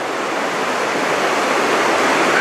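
A river rushes through the Bodetal gorge with a loud, dense, unbroken roar of churning water, close by and constant, with no voices.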